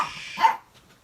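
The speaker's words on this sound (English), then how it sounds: "Crazy dogs." A dog gives a single short, sharp bark close by, preceded by a breathy noisy rush and followed by quiet.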